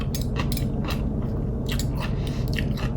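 Close, wet crunching bites of canned coleslaw with carrot, a rapid run of irregular chewing crunches heard up close with no talk.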